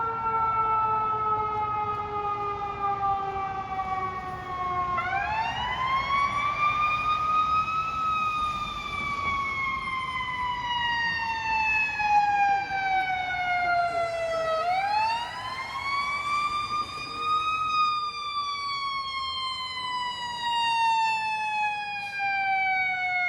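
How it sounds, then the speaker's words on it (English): Fire truck sirens sweep up and down in repeated wails on a Toronto city street near Bathurst, loud and steady throughout, with two rising surges as the trucks pass and low traffic rumble beneath. "We got some fire trucks coming along here."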